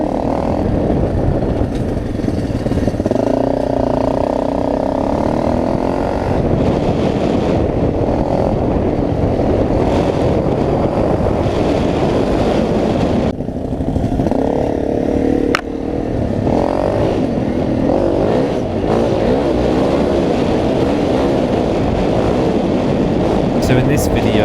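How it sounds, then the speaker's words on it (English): An off-road motorcycle with a nearly bald rear tyre spins its back wheel through sand, giving a loud, continuous engine roar with surging revs and gritty clatter throughout, and a voice speaks over it. "the rear wheel was just completely spinning through that sand"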